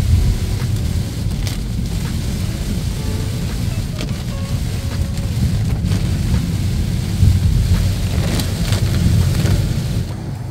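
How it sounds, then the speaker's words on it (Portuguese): Steady rain falls around someone walking outdoors in a city centre, a dense hiss with wind buffeting the microphone and a low rumble underneath, loud and continuous throughout. "Caminhando na chuva."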